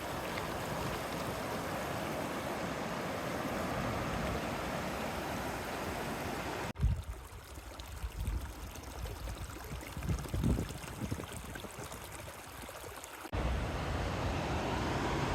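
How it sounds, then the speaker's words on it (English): Snowmelt water flowing across a trail between aspen trees in the Eastern Sierra near McGee Creek, a steady rushing stream with a quieter, more distant middle stretch. "That water coming in between the aspen trees is so pretty."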